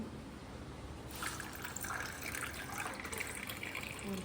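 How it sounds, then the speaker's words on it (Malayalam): Water is poured into a ginger and green chilli mixture in a kitchen, a soft gushing trickle that starts about a second in and continues steadily, close and fairly quiet, with no speech. "നമുക്ക് കുറച്ച് വെള്ളം ഒഴിക്കാം."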